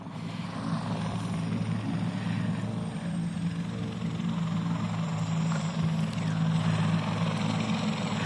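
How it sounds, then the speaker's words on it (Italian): A Carabinieri police helicopter arrives in a steady, loud rotor drone with a low thumping hum that swells slightly toward the end, heard alone without voices. "L'elicottero dei carabinieri che arriva."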